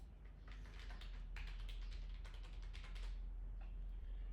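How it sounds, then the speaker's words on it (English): Quiet keystrokes as a password is typed on a computer keyboard, a soft irregular patter of taps heard alone over a low steady hum. "I will enter a password."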